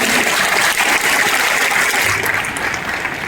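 Dense, steady applause from a large audience at a folk cultural fair in Vijayapura, a broad wash of clapping that holds loud and continuous throughout with no voices on top.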